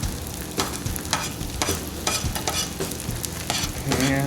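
Ham sizzling on a Blackstone griddle beside cooking omelets and bacon, with a steady frying hiss broken by repeated scraping and stirring strokes of a spatula, close and fairly quiet.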